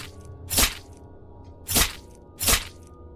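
A knife cuts through something in three slow, separate crunching strokes, each a loud close burst, with quiet pauses between them.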